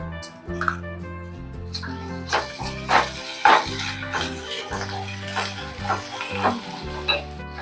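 Ginger paste frying with onions in a pan, a steady sizzle with occasional stirring scrapes, heard beneath background music.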